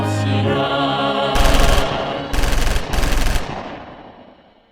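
Staged gunfire sound effects ring out during a church performance about the March 1st Movement: three loud bursts of rapid shots cut over sustained background music, then fade into a decaying tail.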